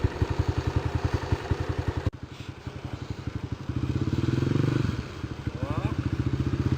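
A dirt bike engine idles with a steady, close, rhythmic putter, briefly dropping in level and then revving a little higher before settling back to a low idle as the bike comes to a stop.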